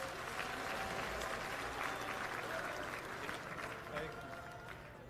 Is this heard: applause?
yes